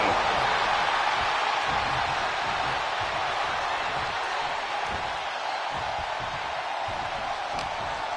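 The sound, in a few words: crowd roaring in WWE 2K25 video game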